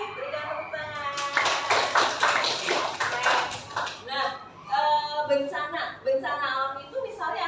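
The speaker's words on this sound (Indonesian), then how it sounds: "Oke, berikan tepuk tangan." Students in a high school social studies classroom clap their hands in a short burst, sharp and close, while a teacher and class voices talk over and around it.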